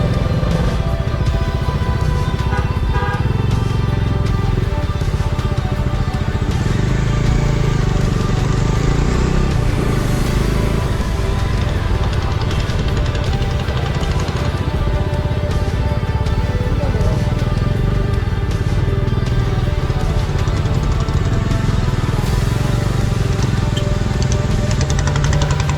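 A motorcycle ridden on a highway in Gujarat, traveling from Somnath toward Nageshwar through light traffic, gives a steady loud engine drone with constant wind and road rumble for the whole stretch.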